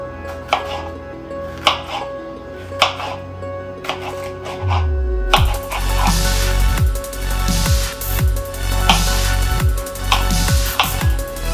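Knife slicing chicken for a stir fry, sharp distinct cuts spaced a second or so apart, then a busier stretch of repeated chopping strokes against a board over a low background hum, close and fairly loud.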